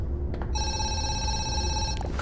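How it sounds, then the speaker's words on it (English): A telephone rings in the horror zoo video game Zoochosis, a single sustained electronic ring lasting about a second and a half, clear and close against a low ambient hum. "Phone call."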